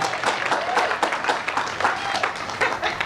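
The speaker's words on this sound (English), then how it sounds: "you applauded for him a little bit louder than you did for me" An audience at a Juneteenth celebration applauds steadily for about three seconds, a dense, even wash of many hands clapping at once.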